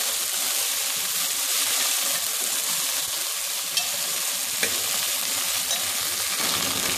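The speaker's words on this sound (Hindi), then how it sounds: "दो मिनट तक इसको फ्राई करेंगे" Okra sizzles steadily in a pan with cumin seeds, a dense continuous frying crackle with a couple of faint stirring clicks and no talking.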